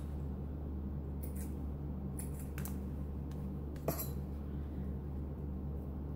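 Scissors trim loose yarn ends on a handmade pom pom, giving a few quiet, sharp snips spread over a low steady hum.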